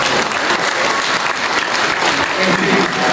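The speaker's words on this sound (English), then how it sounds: "So I think a special round of applause for their commitment to coming here at this early." An audience at a winter music festival night concert applauds, a dense, loud wash of many hands clapping that holds steady throughout.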